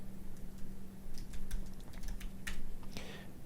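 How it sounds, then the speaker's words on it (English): Keys clatter on a computer keyboard as a command is typed into a Python linting setup, a close, quick run of clicks in uneven bursts over a low steady hum. "Let's go ahead and type in make lint."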